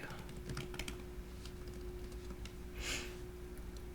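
Computer keyboard typing while a relief printing search is entered: a quick run of light clicks over a steady low hum, with a denser burst near the end, and no voices.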